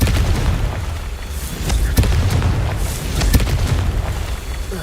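Confringo blasting spell explosions in the Hogwarts Legacy video game: two sharp, booming blasts over a continuous low rumble of game ambience, loud and close.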